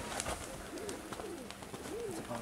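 Fancy-breed pigeons in a loft in Veria, Greece, give soft, rolling coos that rise and fall in a few repeated phrases, close by over a steady background hiss.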